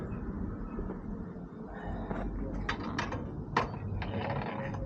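Ratchet clicking as nuts are refitted and tightened on a Yamaha XJ600 Diversion motorcycle during a cush drive replacement, with a steady mechanical background and a few sharper metallic clicks.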